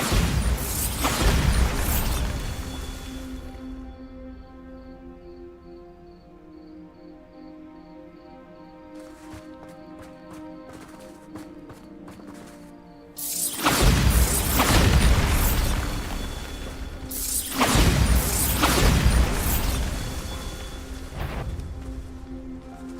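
Bombarda spell explosions in the Hogwarts Legacy video game: loud, deep booming blasts with crashing debris, in three heavy bursts at the start, middle and near the end, separated by quieter stretches of rattling and tinkling.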